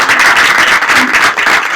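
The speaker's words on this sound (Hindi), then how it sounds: "जोरदार तालियां।" Loud applause from a church congregation, close and vigorous, with many hands clapping in a thick continuous burst that pulses slightly in intensity.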